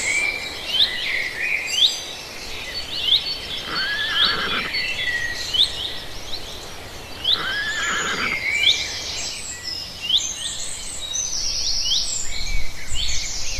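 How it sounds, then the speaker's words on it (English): A horse whinnies several times in quick, shrill bursts at close range, with faint bird chirps and a steady outdoor hiss underneath and no talking. "horse,"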